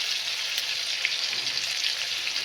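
Spice paste for katla kalia frying in hot oil, a loud, steady, close sizzle that hisses without a break.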